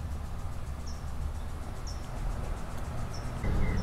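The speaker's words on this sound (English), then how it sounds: "I do hear some birds on the right side, so you have that nice nature sound going on" Birds singing outdoors during a Fourth of July barbecue, a few faint, short chirps repeating about once a second over a steady broadband outdoor hiss.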